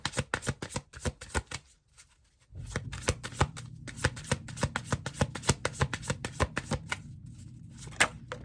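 Tarot cards are riffled in rapid crisp bursts, a brief pause, then steady repeated shuffling with soft slaps and flicks, close and fairly loud.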